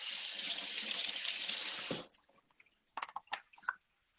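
A sink tap runs steadily for about two seconds while a dirty heating-system filter is rinsed, then shuts off, leaving a few scattered drips and small clatters in a quiet room.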